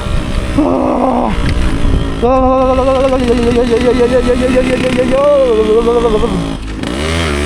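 A motorcycle engine struggles on a snowy high-altitude mountain pass at -12 degrees, its rumble running under loud, continuous talk, with a sharp drop in level near the end.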